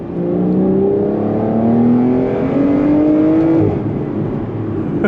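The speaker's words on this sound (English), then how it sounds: "this thing just sounds incredible. That V12 sings. Let's go ahead and go to downshift." A V12 engine in a Porsche 911 pulls strongly on a road, its close, smooth tone climbing in pitch with a couple of clear steps between gears before settling back down.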